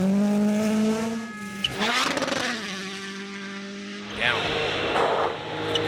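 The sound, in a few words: rally cars sliding through corners, Rally Latvia 2024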